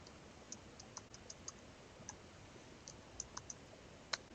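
Formula being typed on a computer keyboard, light scattered key clicks in an uneven rhythm with a quick cluster near the end, soft and close in a quiet room.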